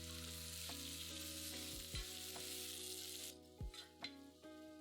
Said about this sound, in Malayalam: അതിലേക്ക് 2 മീഡിയം സവാള ചെറിയ സ്ലൈസായിട്ട് അരിഞ്ഞ് ചേർത്ത് നന്നായിട്ട് വഴറ്റുക.